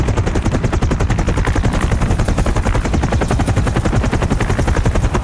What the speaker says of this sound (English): I'm meeting Ghost and Shepard at a helicopter